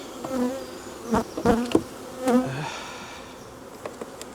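Honeybees hum and buzz around an open hive during a frame inspection, in a low, constant drone broken by a few sharp, close buzzes from single bees passing near.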